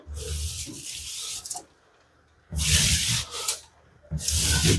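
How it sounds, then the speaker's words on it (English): A damp sponge rubs grout off a tile backsplash in three loud scrubbing passes, each a harsh close swishing stroke separated by short quiet pauses, with no talking. "I'm just gonna get my sponge, give it a quick little wipe"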